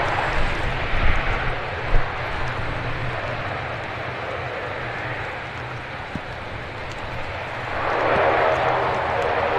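A plane approaches to land at Manchester Airport in wet, windy weather, its engines spooling up as a broad distant roar that swells toward the end, with a voice talking over it.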